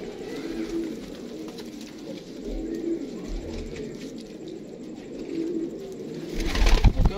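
Teddy golden pigeon chicks coo softly in a few low, rounded bursts over quiet background noise, with a brief louder rustle near the end and no speech.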